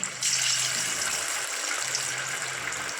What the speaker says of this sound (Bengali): আমার কড়াইয়ে তেল গরম হয়ে গেছে এরপর আমি মাংসগুলো মশলা মাখানো মাংসগুলো